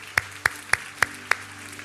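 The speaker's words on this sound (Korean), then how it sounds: "우리 다시 한번 하나님 앞에 영광과 감사의 박수 올려드리도록 하겠습니다." During a Sunday church service, the congregation claps in steady unison to give glory and thanks to God, five sharp, evenly timed claps ringing close and clear, then fading.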